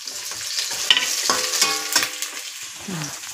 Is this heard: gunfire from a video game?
no